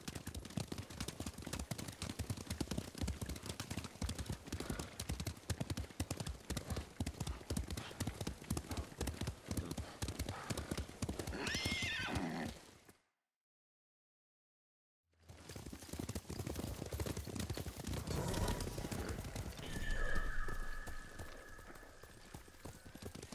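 A horse gallops in the Ghost of Tsushima video game, with rapid, even hoofbeats pounding the ground in a close, continuous rhythm. The hoofbeats stop briefly, then resume, and a neigh rises near the end.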